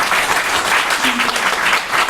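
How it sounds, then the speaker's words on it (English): Audience at a book launch panel clapping, a loud, dense and continuous round of applause from a roomful of people. "Can we give our panel a clap, please?"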